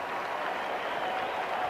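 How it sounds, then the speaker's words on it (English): A cricket crowd at the SCG applauds in a steady, distant wash of clapping that runs unbroken through the short moment. "there's a big crowd that stayed here at the SCG"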